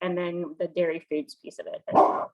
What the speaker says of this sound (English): I'm sorry that my dog is barking.